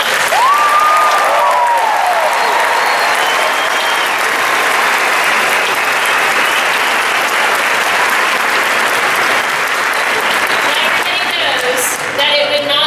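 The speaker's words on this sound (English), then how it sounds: "Let's give them a round of applause." Graduation ceremony audience breaks into loud, sustained applause mixed with crowd cheering and some voices, continuous and full for the whole stretch.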